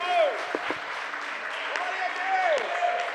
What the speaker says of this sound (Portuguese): Aplauda o Senhor nesta manhã.